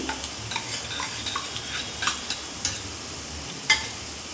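Masala paste of ginger, garlic, cardamom, cloves, cinnamon and star anise is stirred in a frying pan for a fish curry, with soft sizzling under repeated scraping strokes and a few sharper spoon knocks.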